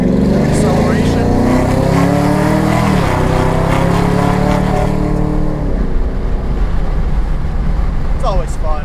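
Chevrolet Camaro accelerating hard, a loud deep engine roar climbing in pitch through gear changes, then easing off into a lower cruising drone, heard close from inside the car.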